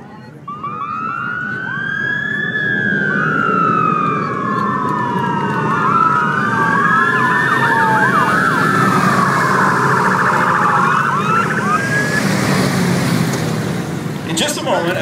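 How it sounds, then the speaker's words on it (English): Several emergency vehicles with lights and sirens pass in an OPP Golden Helmets police parade in Stittsville, their wailing, overlapping sirens rising and falling loudly and continuously for many seconds, with an announcer's voice heard under them. "with lights and sirens, we present the Star Flash Parade"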